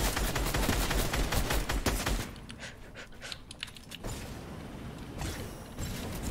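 Gunfire in Fortnite, a sniper rifle among it: a dense, loud burst of shots and game noise, then quieter, scattered cracks and mechanical clicks with a few sharp transients.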